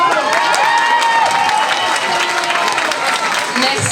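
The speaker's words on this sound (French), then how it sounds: "Merci beaucoup, les applaudis encore une fois." Loud, dense applause from a crowd at a Miss Yonne 2024 beauty pageant, continuous with scattered cheers and a background voice under the clapping.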